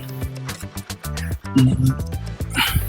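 A big, excited dog gives short, bouncy barks and yips while playing, with quick bursts at uneven intervals, loud and close, along with some scuffling and movement noise.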